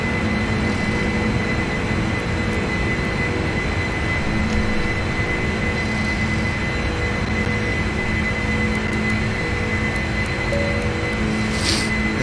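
An aircraft engine drones steadily during takeoff in the Prepar3D flight simulator game, a loud, constant hum with a broad rushing roar underneath and faint electronic tones, with no talking.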